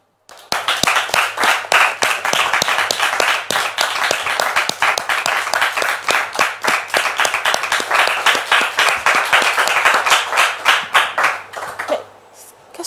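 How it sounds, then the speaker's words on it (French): A crowd gives a pastor a welcoming round of applause, loud, sustained clapping that begins sharply after a brief silence, holds steady, then thins out toward the end. "vos applaudissements, s'il vous plaît."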